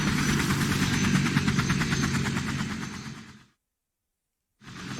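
A helicopter arriving in the survival horror game Resident Evil HD Remaster, loud rotor chop with a rhythmic pulsing whine and engine drone that fades out, falls silent for about a second, then returns.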